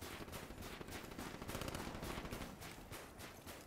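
Rapid, dense gunfire fills the Vesper video game match, with continuous automatic bursts and overlapping shots at steady volume and no voices.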